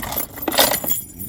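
Keys jangling as they are pulled out of a car's interior, a close metallic clinking and rattling that comes in short bursts and then fades, with no talking.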